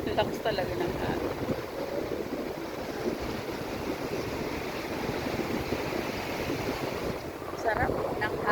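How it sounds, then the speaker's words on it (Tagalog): Strong sea waves surging against a boardwalk at Sabang, Cabugao, a constant loud roar of surf mixed with gusting wind buffeting the microphone, with occasional voices beneath. "Ang lakas talaga ng alon."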